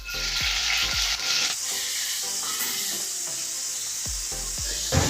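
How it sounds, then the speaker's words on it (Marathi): Paneer cubes fry in hot oil with a steady, loud sizzle, broken by a few sharp scrapes of a spatula stirring the pan; no voices. "आता याला पनीर थोडासा गोल्डन गोल्डन होईपर्यंत आम्ही त्याला फ्राय करणार आहोत."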